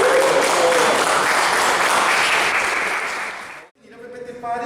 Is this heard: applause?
yes